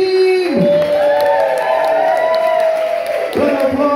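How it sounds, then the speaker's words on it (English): A cabaret audience cheers loudly for the bar team, with sustained whoops, yells and crowd noise at close range, and a voice rising over the din at the start and end. "Round of applause for the Set Cafe Bar team!"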